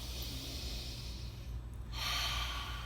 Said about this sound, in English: and then I'll take some deep breaths of it